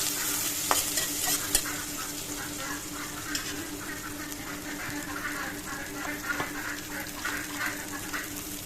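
Whole cumin seeds and onions frying in hot oil in a pan, a steady close sizzle with occasional stirring scrapes and clinks, no talking.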